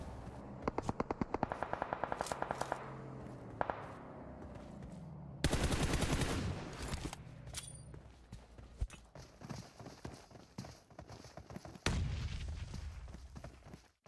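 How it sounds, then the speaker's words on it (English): Grenade blasts and rapid gunfire in a mobile battle royale esports match, bursts of rattling shots and a loud explosion with a long rumbling tail, then more blasts, fairly faint in the mix. "There's a good few nades coming through from the side of Falcons as they're trying to blaze their way back into contention here."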